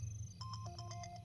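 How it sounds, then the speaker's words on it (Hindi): A mobile phone ringtone plays in short repeating electronic tones over a steady low hum, fairly quiet and with no talking. "तेरा फोन बज रहा है"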